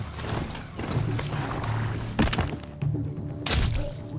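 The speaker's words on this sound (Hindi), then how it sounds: "चल मेरे घोड़े टिम्बकटू" Robotic horse mount in Horizon Zero Dawn on ultra hard difficulty, hooves thudding in a fast irregular rhythm with metallic clanks and sharp impacts, loud and close within busy game audio.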